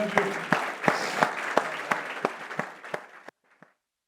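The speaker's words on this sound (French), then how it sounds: "Acclamons notre Dieu bien-aimé." A church congregation applauds during a worship service. A full burst of clapping from many people, punctuated by sharper rhythmic claps, fades away until a last few scattered claps and then silence.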